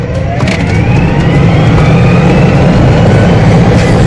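A vehicle engine pushed to full throttle roars loudly and continuously, holding a strained, sustained rev up close for several seconds.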